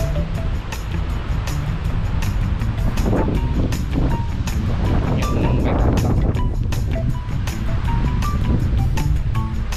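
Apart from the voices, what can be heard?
strong wind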